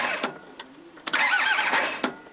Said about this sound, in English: Just going to crank it a little, it won't glow it, and make sure that starter's all good